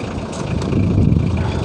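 A used Hyundai Porter truck with a 2.6 litre engine runs at a car market, a steady low engine rumble close by for a brief moment amid outdoor noise, no speech.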